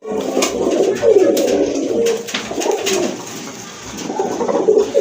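A pair of crested Bagha silver pigeons coo loudly and close, with repeated rolling low calls rising and falling in bursts over about five seconds.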